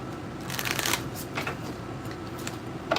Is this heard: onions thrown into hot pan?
no